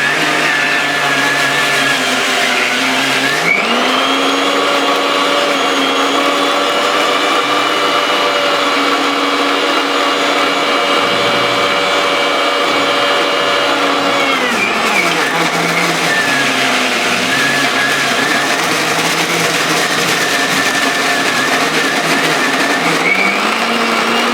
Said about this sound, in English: now we will grind it till it becomes paste.